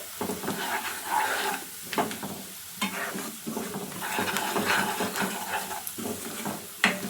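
Chilli powder masala fries in a pan for chicken masala, a steady sizzle under repeated scraping stirs, close and busy throughout.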